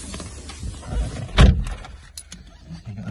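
Car door on a 2004-era-free BMW 1 Series 116d Sport five-door handled as someone climbs in: a soft shuffle, then a firm close thunk near the middle, followed by faint rustling inside.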